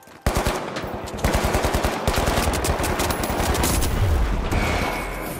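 Sustained automatic gunfire in the shooter game The Finals: loud, close bursts of rapid shots with a brief pause early on, then a continuous rattling stream that barely lets up to the end.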